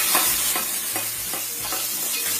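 Sliced onion, ginger and garlic sauté in a hot pan, with a steady close sizzle and repeated rhythmic scrapes of a spatula stirring them, all without any talking.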